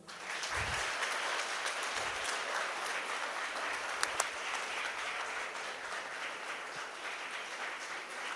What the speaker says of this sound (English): You don't want to clap for them?